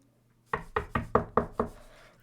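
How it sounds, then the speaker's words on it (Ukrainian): Six sharp, evenly spaced knocks on a house door in Minecraft, crisp and close, with silence before them. "Так, давайте постукаємо."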